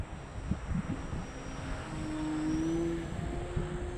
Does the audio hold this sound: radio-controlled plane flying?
yes